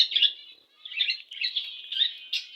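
Budgerigars call in a series of bright, chattering chirps and warbles, close and moderately loud, in several short bursts with brief gaps and no talking.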